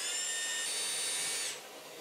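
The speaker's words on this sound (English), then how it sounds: "So now I'm going to use my Makita SDS drill, starting it on just the drill function with a slightly smaller drill bit." A Makita SDS drill runs on plain drill mode with a small bit, boring into a masonry wall to fit a TV bracket, a loud steady whine that rises slightly, then drops off as it winds down near the end.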